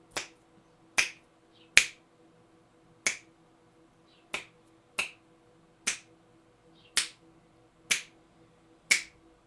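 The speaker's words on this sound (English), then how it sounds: "I'm gonna snap my fingers and I should be back." Fingers snapping about ten times at an uneven, unhurried pace, each snap a sharp, dry crack close by against a quiet room with a faint hum.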